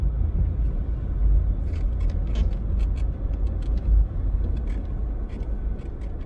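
A car driving through the Harbour View housing scheme in Kingston, Jamaica, heard from inside as a steady low road and engine rumble with faint high hissy ticks and rattles over the top, no talk.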